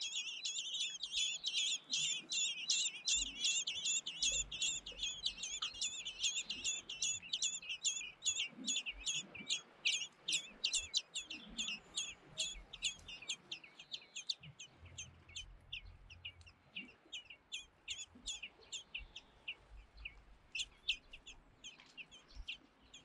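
Young blackbird chicks in a nest beg with rapid, high-pitched chirps as adult blackbirds feed them. The chirping is dense and insistent, loudest early and then broken into quick bursts, with soft rustling and low thumps beneath and no voices.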